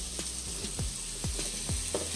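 Vegetables tossed in olive oil sizzle on a hot grill, a steady crackling fry with several soft scraping strokes as they are spread out, close and fairly quiet, with no talking.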